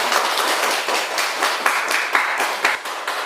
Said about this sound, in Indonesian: Kita beri tepuk tangan untuk Lafif.